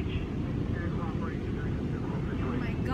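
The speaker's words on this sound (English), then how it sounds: "Oh my gosh, this helicopter." A helicopter passes over a warm, crowded beach, a steady low rotor rumble under a busy background of voices.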